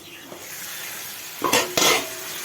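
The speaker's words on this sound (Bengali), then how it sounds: "আবারও নেড়ে চেড়ে চাপা দিয়ে দেবো" Spinach frying in a pan is stirred with a utensil, giving a steady soft sizzle and then two loud, brief scraping clatters close up near the end.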